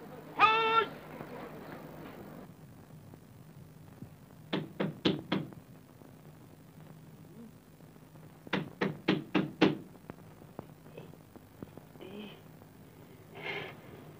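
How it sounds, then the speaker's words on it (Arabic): Knuckles rap on a door in two bursts of four quick knocks, spaced a few seconds apart, loud and close, with brief voices and other sounds at the start and end of a comedy film scene. "قوم افتح الباب يا راجل بيخبط"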